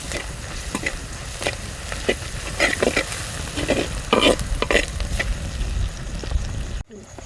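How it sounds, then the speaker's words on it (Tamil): Fennel seeds crackle and sizzle in hot oil for an egg fry gravy, a dense close frying hiss with irregular spitting pops and stirring scrapes, cutting off sharply at the end. "சோம்பு கொஞ்சம் போட்டுக்கலாம்."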